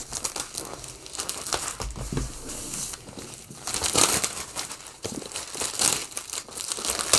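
Plastic wrapping on a boxed M1 MacBook Air is cut and pulled open, a close, fairly loud run of crinkling and tearing with a few sharper crackles, no talk.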